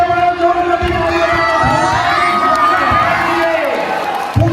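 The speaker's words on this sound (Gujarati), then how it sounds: "જોરથી તાળીઓ પાડો" A lively crowd at a shop opening cheers and claps loudly and continuously, with shouts and whoops over a backdrop of music and voices.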